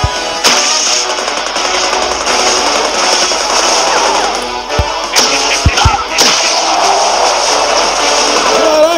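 Gunfire in the Ghostbusters video game, a loud continuous barrage of rapid shots and sharp cracks over a dense layer of game sound effects, with several heavy thumps midway.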